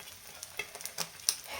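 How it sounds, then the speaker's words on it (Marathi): Bread slices fry in a pan with a soft, even sizzle, dotted by a few light scrapes and ticks over a short stretch, close and quiet. "4 ब्रेडचे काप केलेले आहेत ते टाकून घेते, म्हणजे व्यवस्थित छान परतते."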